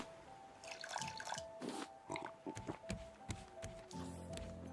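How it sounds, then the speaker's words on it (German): Water poured in the survival video game Raft, a quiet run of splashy, dripping liquid sounds in short bursts with small clinks, faint and close. "Hauen wir gleich mal wieder ein bisschen Wasser rein."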